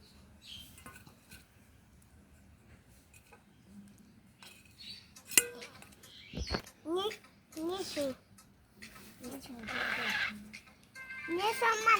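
A cut pomelo is mashed and stirred in a bowl, with scattered clinks and scraping of utensil against dish, close by, while a voice talks over it and a voice appears briefly.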